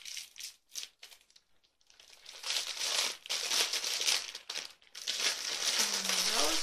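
Star-shaped plastic packaging from a beauty box crinkles as it is opened by hand, a few short rustles at first, then a steady, close crackling that runs to the end.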